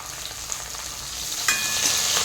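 Curry leaves dropped into hot oil already holding mustard seeds, cumin, garlic and onion for a dal tempering, a steady close sizzle that jumps louder and crackles sharply as the leaves hit midway.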